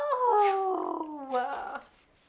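A pet dog lets out a close, clear howl of greeting in two drawn-out, wavering rises before trailing off, heard alone without talk.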